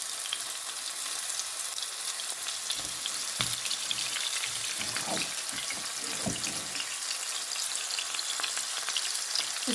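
Chicken pieces browning in a pan with very little oil over full flame, a steady close sizzle and crackle of frying with occasional stirring clinks and scrapes.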